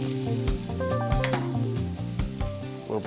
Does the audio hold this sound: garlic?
yes